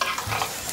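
Brief close burst of onions sizzling in a hot pan with a stirring scrape, loud and continuous for a moment.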